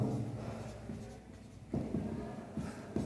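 Marker or chalk writing on a board during a calculus lesson, with close scratchy strokes coming in short bursts and brief pauses between them, and no speech.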